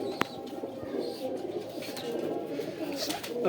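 Ferozpuri breed pigeons cooing in a loft setup, a steady low murmur of overlapping coos with a sharp click near the start and light background noise throughout.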